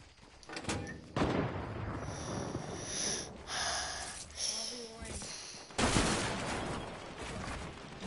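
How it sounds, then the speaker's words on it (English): Sniper rifle fire in a multiplayer shooter game, sharp broadband cracks landing amid busy game noise, with loud bursts near the start and end and players talking throughout. "Bro, we're getting sniped."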